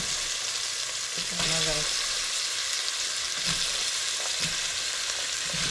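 Chayote pieces sizzle and crackle steadily in a hot pan, with brief stirring clatters and a short spoken remark near the start.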